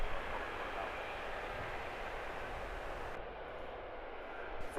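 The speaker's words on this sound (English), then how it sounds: "Cheeky little manoeuvre from this EasyJet, taking an earlier taxiway and then making use of a backtrack to overtake the company aircraft ahead." EasyJet airliner taxiing at Luton Airport, a steady broadband engine rumble and whine holding at moderate level throughout, continuous and without breaks.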